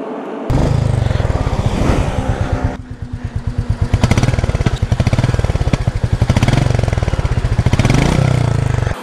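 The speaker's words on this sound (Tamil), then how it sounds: "ஸோ எக்ஸாஸ்ட் நோட் இப்போது கேளுங்க." Royal Enfield Meteor 350 motorcycle with a long exhaust pipe, loud and close, its single-cylinder exhaust thumping steadily at idle, then revved in rising bursts before settling back to a rhythmic beat.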